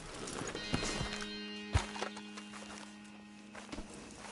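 A horse's hooves clip-clop in the western game Red Dead Redemption 2, a few soft, scattered thuds over a steady low background hum, fairly faint and without a clear walking rhythm.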